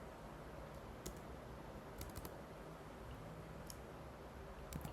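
Faint, sparse keystrokes of someone typing code on a computer keyboard, a few scattered clicks over quiet background hiss.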